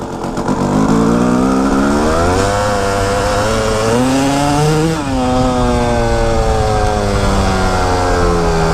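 A Kawasaki KX250 motocross bike engine revs steadily and loudly up close, its pitch climbing and dipping through several rising rev sweeps with no talking.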